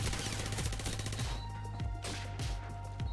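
Rapid, heavy automatic gunfire from a high-recoil gun in Call of Duty 4, a loud close burst of repeated shots with a few distinct thumps near the end.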